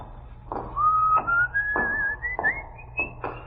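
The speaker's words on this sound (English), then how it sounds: "What you whistling?" Someone whistles a rising, gliding tune alone in an old-time radio crime drama, with soft background noise and a few muffled knocks or steps.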